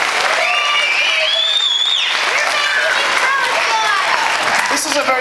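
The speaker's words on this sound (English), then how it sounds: "How about a round of applause for David, all the hard work he does in our" Audience applause at an auction event, a steady wash of many hands clapping close and loud throughout, with voices and cheering calls rising over it.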